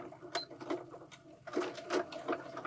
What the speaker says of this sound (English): So now we are going to go to the machine, and using our zipper foot, we are going to stitch right beside the teeth.